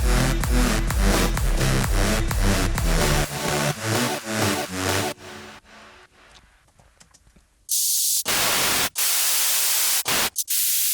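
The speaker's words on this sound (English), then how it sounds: "What's the frequency range of your white noise?" A synthesizer plays rhythmic chopped tones, then bursts of bright white noise hiss loudly in short on-off blasts after a quieter stretch.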